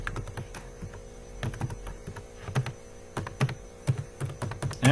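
Quick, irregular clicks of a computer keyboard as Scala code is typed, close and fairly quiet, over a steady low mains hum.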